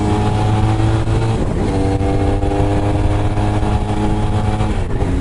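A motorcycle engine runs loud and close on an early morning ride, with a steady droning hum and a brief shift in pitch partway through, and no talking.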